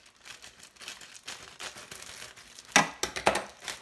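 Sharp crinkling of thin plastic, starting as a soft rustle and ending in several loud crackly bursts close to the microphone.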